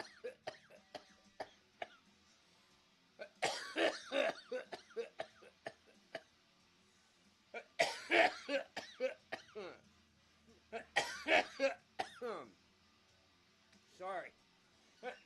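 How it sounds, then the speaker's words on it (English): A person smoking coughs in repeated harsh bursts, several clusters of hacking coughs and throat clearing close to the mic, separated by short quiet gaps. "Coughing my brain out"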